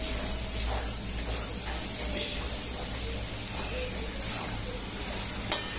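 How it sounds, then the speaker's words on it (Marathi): Ginger and garlic frying in a pan for pav bhaji, a soft, steady sizzle with light stirring scrapes and a brief metallic clink near the end. "2-3 मिनटं फ्राय करायचं चांगलं अद्रक लसूण"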